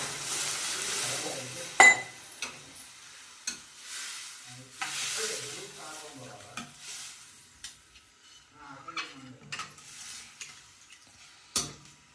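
Vegetable pulao masala stirred in a pot, producing soft intermittent scrapes and quiet sizzling with occasional clinks of the spoon against the metal, close and unaccompanied by talk.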